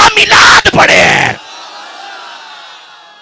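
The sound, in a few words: crowd chanting religious slogans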